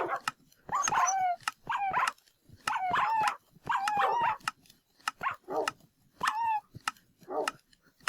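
Minecraft wolf puppies in a wolf farm drowning in water, letting out repeated high yips, whimpers and small barks in separate bursts with short gaps, close and clear.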